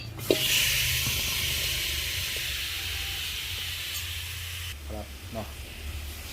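Pork belly sizzles loudly in a hot wok, a steady broad hiss close up, with someone speaking briefly over it near the end.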